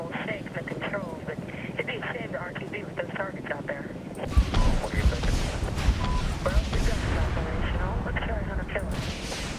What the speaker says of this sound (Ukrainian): він повз пролітає просто ця ракета